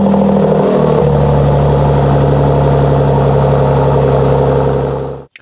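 A Mercedes-AMG engine idles steadily in Sport mode with its exhaust valves open, a loud, deep burbling rumble that holds nearly unchanged for about five seconds before cutting off abruptly.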